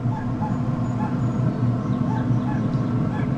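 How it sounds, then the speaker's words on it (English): Dogs bark and yip repeatedly, somewhat distant and muffled, over a steady low background rumble. "here we go, dogs barking and all"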